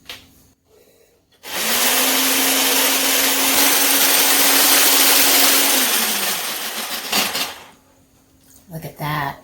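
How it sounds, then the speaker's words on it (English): A whisk beats a fluffy whipped coffee mixture in a bowl for an iced caramel macchiato, giving a loud, steady whirring buzz for about five seconds that then tapers off, with quieter handling noises before and after. "I'm going to take my whisk and I'm going to give it a good whisk for a while"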